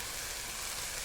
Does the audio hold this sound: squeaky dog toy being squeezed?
no